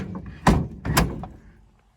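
A 1946 Chevy truck door shut twice in quick succession, two solid, close metallic thunks with a short rattling tail.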